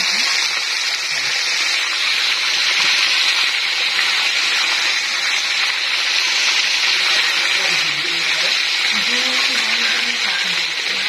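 Catfish frying in hot oil gives a steady, bright sizzle close by that fills the whole stretch, while people talk over it.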